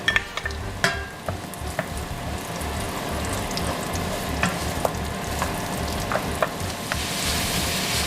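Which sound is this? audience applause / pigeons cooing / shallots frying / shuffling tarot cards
shallots frying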